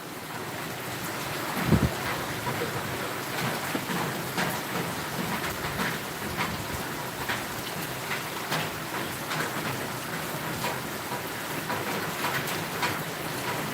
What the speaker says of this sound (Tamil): புதுச்சேரியில் தற்போது கனமழையானது பெய்து கொண்டிருக்கிறது